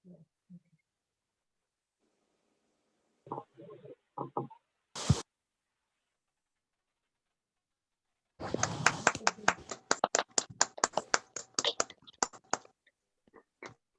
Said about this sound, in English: I want to hear those claps